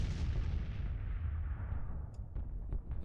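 Artillery fire from a Marine Division in a Civil War strategy game set during the Peninsula Campaign in Virginia, a continuous loud low rumble of booming cannon blasts with a few sharper pops near the end.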